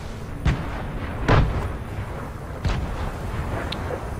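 Grenade blasts in Fortnite, a battle royale video game, boom out in several separate bursts, the loudest near the middle, with game ambience between them and no talk.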